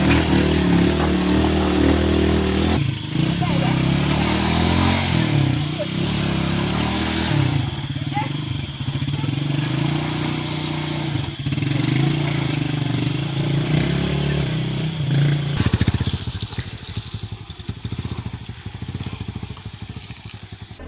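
Motorcycle ridden along a badly damaged road near Nkondjok, Cameroon, its mid-pitched engine droning and revving unevenly, close and loud, under a talking voice for much of the stretch.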